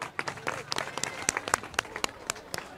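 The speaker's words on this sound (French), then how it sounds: "Applaudissons Mademoiselle Mbaye." Audience applause at a school excellence ceremony in Mékhé, heard as scattered, distinct individual claps from a modest crowd, fairly close and irregular in rhythm, with some faint voices underneath.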